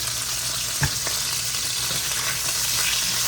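Carrots fry in olive oil in a pan, a steady broadband sizzle with a brief clattering stir near the start, close and even throughout with no voices.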